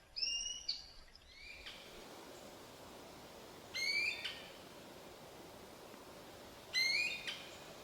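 A female eared quetzal calls from a big dead Douglas fir in Mexico, giving two short bursts of rising, squealing whistled notes a few seconds apart, moderately near against a steady wash of forest background noise.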